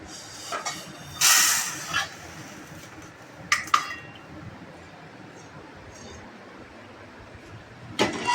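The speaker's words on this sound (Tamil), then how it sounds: "இப்போ நம்ம உளுந்தை வேறு பாத்திரத்துக்கு மாற்றிக்கலாம்" Black gram being moved from one cooking vessel into another, heard as scattered scraping and clinking of metal pots and utensils with a short rushing pour near the start, alone and fairly faint in a quiet kitchen.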